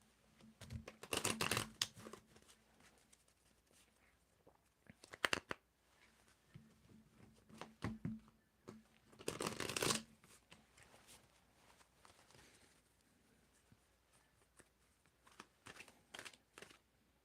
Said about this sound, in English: When do you want me to stop shuffling, Luma?